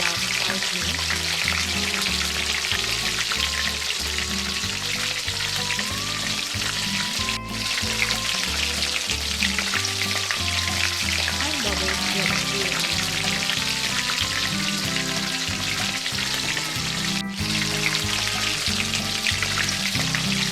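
Karaage chicken deep-frying in oil makes a continuous loud sizzle, with steady low knocks and clatter running underneath throughout.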